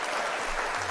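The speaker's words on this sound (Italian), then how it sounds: "Ma continuo questo applauso." A short burst of dense, continuous applause, a crowd clapping steadily and loudly with no voices on top.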